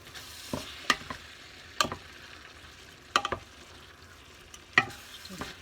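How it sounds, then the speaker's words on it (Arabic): A spoon stirs fish and seafood paella in a pan over a steady low sizzle, with four or five distinct scraping strokes spaced about a second apart. "غادي نخلط كامل."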